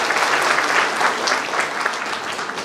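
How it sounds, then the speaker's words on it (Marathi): A hall full of people at a traditional day celebration at SSPM medical college claps steadily and densely, close and loud, for the whole short stretch. "आपण त्यांच्यासाठी जोरात टाळ्या वाजवूया."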